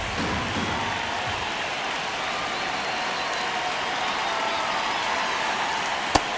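A baseball crowd in the video game MLB The Show 26 applauds and murmurs during a tense ninth inning, a steady, moderately distant wash of clapping and crowd noise with one sharp click near the end.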